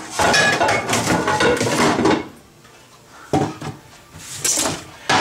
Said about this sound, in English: I'm going to pull down the saute pan here.